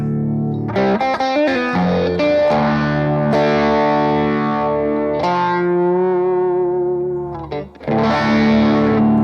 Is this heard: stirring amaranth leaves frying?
no